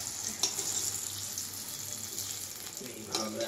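Pakora-like fritters fry in hot oil, giving a steady close sizzle with faint scattered clicks and pops that run evenly throughout.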